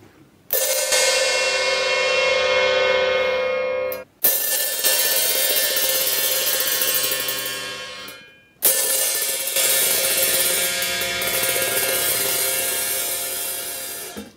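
An open hi-hat on a drum kit: three long, bright metallic washes ring out one after another, each sustaining for several seconds before being choked off, like a cymbal struck open and left to sizzle.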